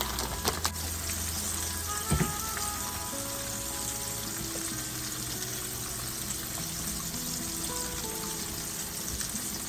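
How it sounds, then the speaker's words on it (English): Chicken frying in grease in a pot: a steady, soft sizzle and crackle holding at an even level throughout, with a brief clatter near the start and no talk. "If my grease would have been a little bit hotter and it was really, really sizzling"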